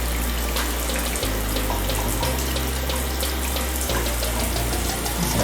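Shower water runs steadily over pet royal python snakes, a continuous close splashing hiss with slight changes in the low tone as the flow shifts.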